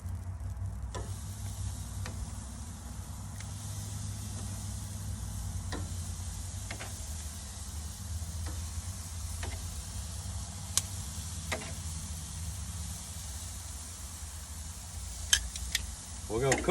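Chicken thighs sizzling skin side down on a grill heated to 400 degrees, a steady broad hiss running throughout with occasional faint ticks and pops.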